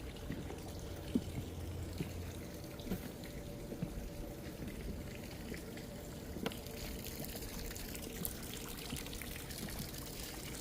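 A small pond on a nature trail, with water trickling and splashing in a steady low wash, faint and continuous, under a soft outdoor background.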